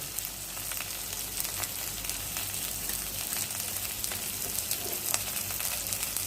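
Ground spices such as turmeric, chilli and cumin go into a hot pan for a prawn and pointed-gourd curry, giving a steady, close sizzle and crackle that holds throughout with occasional sharper pops and no talking.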